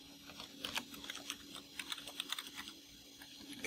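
Quiet rapid clicks of typing on a computer keyboard, in irregular bursts of keystrokes with short pauses, close and alone.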